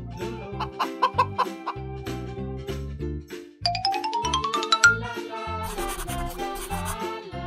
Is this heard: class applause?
no